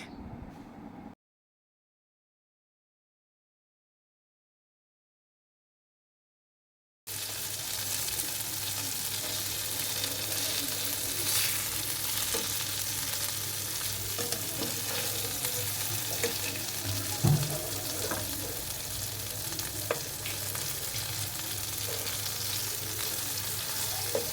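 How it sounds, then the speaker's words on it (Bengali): Chicken chaap pieces fry in oil in a pan, giving a dense, steady sizzle that runs nearly unbroken after a short silent gap. "এভাবে আমি উল্টে পাল্টে ভালো করে চাপগুলোকে ফ্রাই করে নিচ্ছি।"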